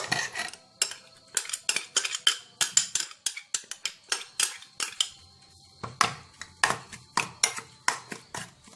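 A utensil stirs chili, leftover spices and grated tomatoes together in a pan, giving a steady run of sharp scraping and clinking strokes, close and fairly loud, with no talk.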